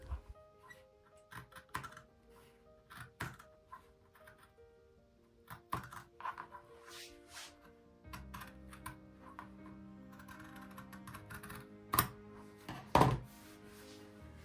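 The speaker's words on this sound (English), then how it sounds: "I have some very squeaky scissors that could do with a little oiling" Squeaky scissors cutting clear vinyl along a drawn line for a tote bag: quiet, sharp snips come in an irregular series, close by, with thin squeals and a couple of louder clicks near the end.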